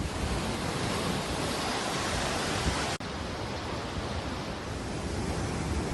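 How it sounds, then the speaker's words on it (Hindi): Raging, flooded Teesta river at Mangan in Sikkim, a dense, loud, unbroken roar of rushing water that fills the whole stretch with a brief cut midway, no voices. "सिक्किम के मंगन में तीस्ता नदी का रौद्र रूप लोगों को डरा रहा है।"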